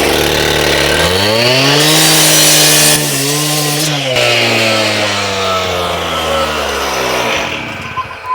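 A power saw cuts through stone with a loud, continuous high whine whose pitch dips and rises as the blade bites. The grinding rasp runs close and unbroken for several seconds.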